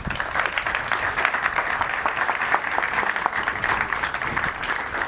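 An audience applauds the mayor of Ayvalık at an exhibition of Anatolian civilizations, dense steady clapping from a crowd filling the room for several seconds at an even loudness.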